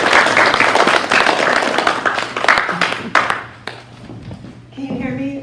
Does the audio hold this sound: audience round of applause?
yes